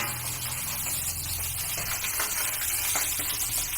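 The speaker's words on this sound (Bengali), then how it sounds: "দিয়ে ভালো করে আমি উল্টে পাল্টে এটাকে একটু ভাজা মতো করে নিই" Cauliflower leaves fry in a pan with a steady, close sizzle and hiss, broken by a few faint scraping stirs.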